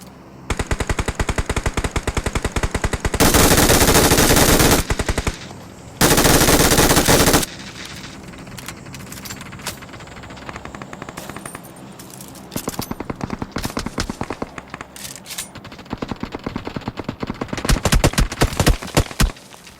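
Mobile battle-royale match of PUBG Mobile: loud, close automatic machine gun bursts rattle in long sustained strings, broken by short pauses and a couple of denser roaring blasts, then more rapid bursts toward the end, no voices heard.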